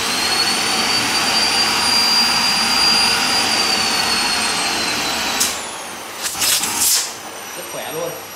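Panasonic vacuum cleaner running at boosted speed, a loud steady whining roar holding for several seconds before a few bumps and a voice speaking over the motor.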